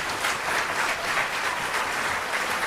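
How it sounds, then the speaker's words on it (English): An audience applauds the Zero Clearance Theater Company at a staged performance: steady, dense clapping from a crowd that holds an even level for the whole stretch, with no voices over it. "Let's have a round of applause for the Zero Clearance Theater Company."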